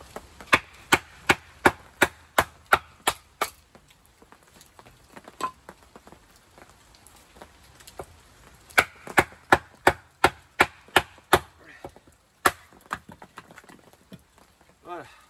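A Tops Bob Fieldcraft 154CM knife chops into very dry wood, giving sharp, close, evenly spaced knocks in quick runs separated by pauses, with someone speaking quietly between strikes.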